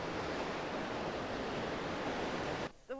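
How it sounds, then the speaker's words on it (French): An artificial surf wave breaking in a 300-metre wave pool lagoon, a steady loud whooshing roar of churning water that stops suddenly just before the end. "la plus longue vague artificielle du monde, créée sur un lagon de 300 mètres"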